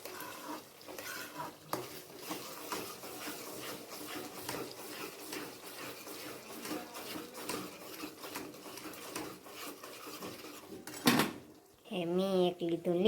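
Pav bhaji ingredients stirred together in a pan, repeated scraping and clinking of a spoon against metal with a light sizzle beneath, someone talking over it.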